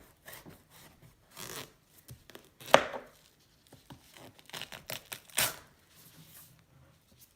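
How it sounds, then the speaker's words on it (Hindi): A knife chops through honeydew melon in a string of irregular, close cuts and scrapes, with quiet gaps between strokes and no talking. "हनी ड्यू को भी काट लेते हैं।"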